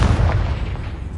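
A Confringo blast spell explodes in Hogwarts Legacy, a loud, dense booming burst with heavy low rumble that fills the whole moment without a break.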